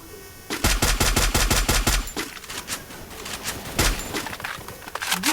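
Gunfire in the mobile shooter Free Fire: a fast, loud burst of automatic shots lasting over a second, then scattered single and clustered shots and game ambience.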